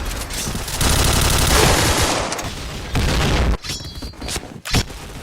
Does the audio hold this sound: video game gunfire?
yes